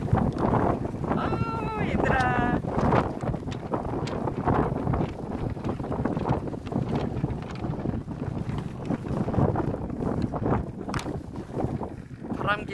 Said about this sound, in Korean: 바람개비 소리와 바람소리 들리시나요?